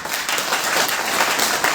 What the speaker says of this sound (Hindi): ये युवा जो ताली बजा रहे हैं